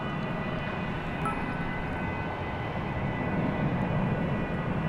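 Airplane bound for Istanbul moving on the ground at DFW Airport at night, a steady distant rumbling engine drone with a faint high whine, even and unbroken throughout.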